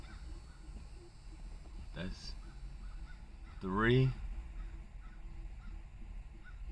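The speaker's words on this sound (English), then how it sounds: "3 crows just flew over" Crows flying overhead give a couple of hoarse caws, a short one then a louder drawn-out call, over faint background and a brief spoken word.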